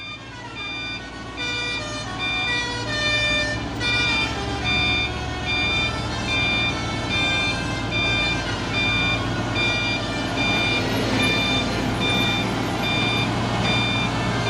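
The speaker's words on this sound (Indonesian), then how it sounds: "Wis, ada telolet." A musical telolet horn on a 6x4 CPO tanker truck climbing the Bukit Kodok hill road, heard as sustained tonal melodic notes over a low diesel engine rumble, close and steady throughout.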